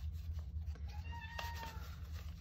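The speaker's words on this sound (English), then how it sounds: "and that is my cat." A domestic cat lets out a single clear meow partway through, close by, over a steady low background hum.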